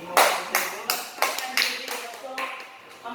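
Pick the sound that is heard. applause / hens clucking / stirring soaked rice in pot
applause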